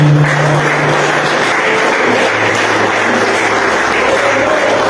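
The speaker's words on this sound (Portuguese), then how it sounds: "aplauda a Jesus forte" A church congregation at a Sunday morning service applauds, a steady dense wash of clapping filling the room for the whole stretch.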